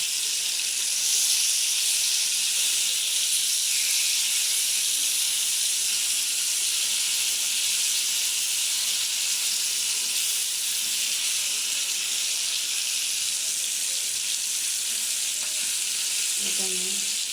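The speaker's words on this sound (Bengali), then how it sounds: "এখন আমি মাছগুলো ভেজে নিচ্ছি।" Continuous loud sizzle of bata fish pieces frying in hot oil in a pan, a dense, steady hiss heard up close, with a faint utensil clink near the end and no talking.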